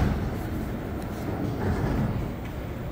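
An AZUR train on the Montreal Metro passes steadily, a continuous low rumble of rolling wheels and motors that swells slightly midway without fading out.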